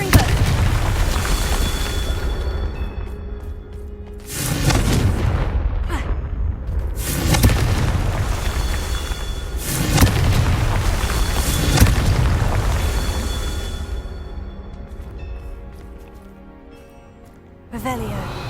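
Fire spell explosions from the Hogwarts Legacy video game: a series of loud, deep booms every few seconds over a dense, rumbling game soundtrack.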